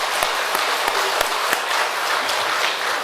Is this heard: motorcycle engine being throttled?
no